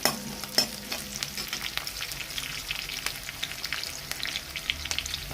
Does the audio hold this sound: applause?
no